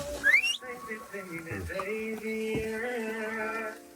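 A person gives a short rising whistle, then sustained whistled tones follow at close range, fairly quiet and with no talk over them.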